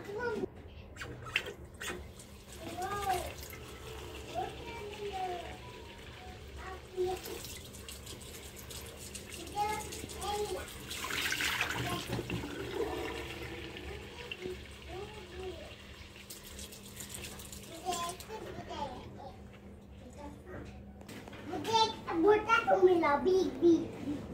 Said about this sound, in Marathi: तर चला आपण आता पक्ष्यांसाठी पाणी ठेवूया